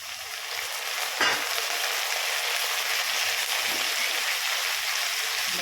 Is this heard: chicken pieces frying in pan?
yes